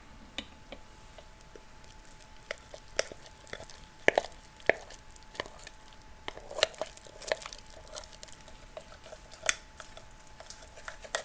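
A spoon stirs thick homemade sourdough starter in a container, giving quiet, irregular sticky clicks, taps and scrapes scattered over about eleven seconds.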